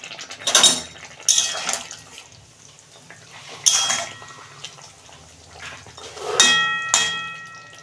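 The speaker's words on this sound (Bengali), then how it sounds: "ঢাকনা খুলছি" A metal lid clanks and scrapes as it comes off a pot of fish curry with ridge gourd and potato, a few bright close clinks separated by quiet pauses.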